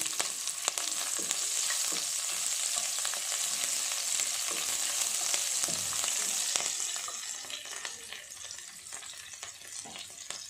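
Chopped green chillies frying in hot oil for an aloo green peas curry: a steady, close, bright sizzle with occasional stirring scrapes that eases slightly toward the end.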